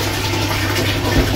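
Water runs steadily from a tap in a train toilet, a constant close rushing stream over a low mechanical hum.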